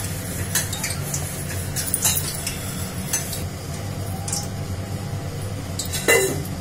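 A spoon scrapes and clinks against a bowl as ingredients for raw banana vada are mixed, with scattered sharp taps and clatters over a low background hum.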